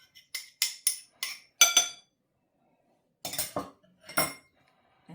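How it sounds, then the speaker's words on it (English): A whisk clinks and scrapes against a bowl while floured blueberries are stirred into batter. Two quick bursts of sharp, rhythmic clinks come close and clear, with a short quiet gap between them and no talking. "just whisk around just a little bit. Get some of them berries incorporated"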